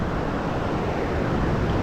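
Big overhead surf closes out at La Jolla, California, with a dense, continuous roar of breaking whitewater and wind rushing across the microphone, steady and loud throughout.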